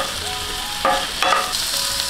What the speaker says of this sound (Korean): 자, 여기서 새우를 넣습니다.